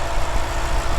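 The 4.8 liter V8 of a 2013 Porsche Panamera GTS idles close by, a deep, steady rumble with a slightly uneven pulsing texture and nothing else over it.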